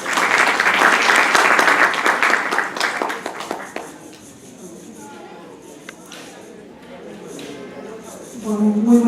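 Applause from an audience at a presentation, loud dense clapping for several seconds that thins to scattered claps and fades, followed by quieter sounds and a voice starting at the end.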